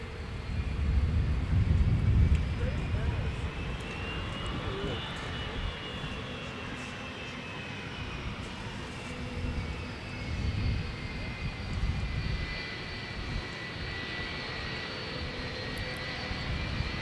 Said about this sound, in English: We've got a FedEx arrival. A Boeing 757-200 freighter.